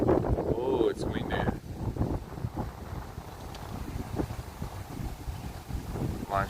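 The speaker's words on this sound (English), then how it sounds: "it's windy" Wind gusting beside a canal near a shopping mall in Sheepshead Bay, Brooklyn, a steady broadband rush buffeting the microphone throughout, with a voice briefly audible near the start.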